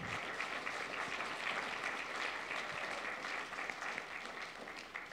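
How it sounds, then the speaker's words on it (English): A church congregation applauds donors, a full, sustained round of clapping that stays even and fairly distant before easing off at the end. "let's give all these donors, too, a round of applause"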